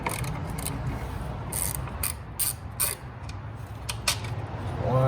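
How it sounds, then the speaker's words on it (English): Ratchet wrench working 10mm bolts loose on a 2007 Ford Fusion 2.3L engine, a close series of short clicking bursts spread across the clip, with no talk. "So we're gonna remove these first bolts."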